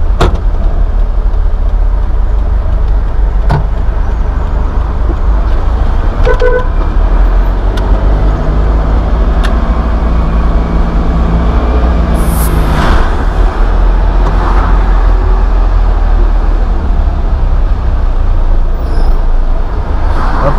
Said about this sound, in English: And this particular stretch we're going on has a lot of traffic.